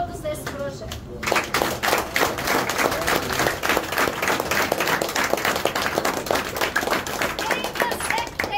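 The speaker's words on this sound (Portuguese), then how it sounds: "dando uma salva de palmas a Jesus e a todos desse projeto" Congregation applause for Jesus and the team of the Anjos da Fé project at a church event, a dense steady patter of many hands clapping from about one second on, with voices mixed in.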